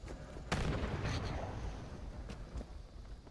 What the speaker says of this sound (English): You just grenaded your friend's body.